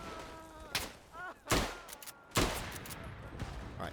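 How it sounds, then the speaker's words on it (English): Heavy gunfire in the World War I shooter game Tannenberg with a Maxim machine gun being manned: three loud, sharp blasts spaced about a second apart, separated by quieter crackling shots, with no talking. "they're manning the Maxim gun"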